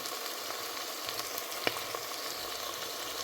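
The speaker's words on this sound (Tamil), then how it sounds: "இது நல்லா வெங்காயம் வதங்கி கொண்டு இருக்கு" Onions sautéing in a pan give a steady, even sizzle with a faint crackle and one brief clink midway, heard alone without speech.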